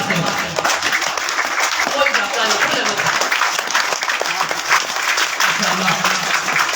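Applause at a school's annual results ceremony in Pakistan for a prize-winning student: a crowd's sustained, dense clapping continues throughout, with some voices faintly underneath.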